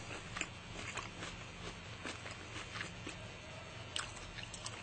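Someone eats kimbap, with soft wet chewing and bites close to the mouth, faint and repeated under a steady background hum.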